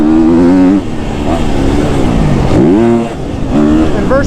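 A KTM 250 SXF dirt bike engine revs loud and close, its pitch swinging up and down through repeated throttle blips, with sharp climbs to high revs near the end.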